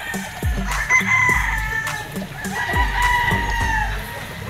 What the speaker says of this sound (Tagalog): Napakaganda ng mga manok dito.